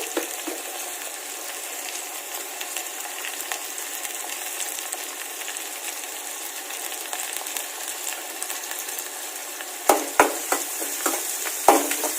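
Onions sizzle steadily in a hot pan for a home Kannada meal, a continuous bright crackle with a few sharp clinks of a utensil near the end.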